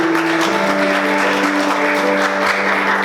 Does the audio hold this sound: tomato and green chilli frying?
no